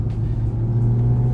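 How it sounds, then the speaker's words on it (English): A Porsche GT3 RS flat-six engine accelerates, heard from inside the cabin as a steady low rumbling drone with a strong, sustained tone and no speech. "cabin comes alive with the sound of flat 6 in motion when you squeeze this accelerator"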